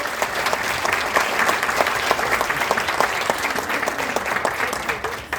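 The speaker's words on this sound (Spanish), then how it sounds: "Y un fuerte aplauso al maestro asesor" Strong audience applause for a teacher advisor at a school awards ceremony, sustained close clapping for over five seconds that tapers at the end.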